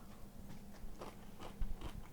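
Someone bites into and chews a crunchy salad of cucumber, tomato, onion and carrot in vinegar, with a few quiet crisp crunches close to the mic.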